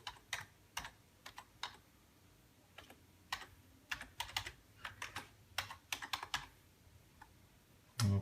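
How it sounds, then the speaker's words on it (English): A username and password typed on a computer keyboard: close, crisp clusters of key clicks in uneven bursts with short pauses, alone in a quiet room. "I type in my username and password."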